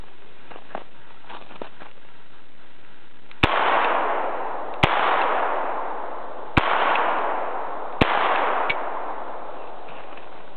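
A BOND 007 signal flare pistol fires five sharp, loud reports at irregular intervals, each followed by a short ringing echo, with quiet handling clicks before the first shot.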